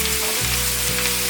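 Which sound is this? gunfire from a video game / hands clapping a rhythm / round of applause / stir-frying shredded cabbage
stir-frying shredded cabbage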